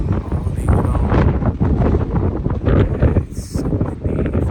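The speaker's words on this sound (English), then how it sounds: "The wind's just howling around." Strong wind howls through a New South Wales state forest, buffeting the microphone with a steady, loud rumbling roar and gusting rustle, with no break throughout.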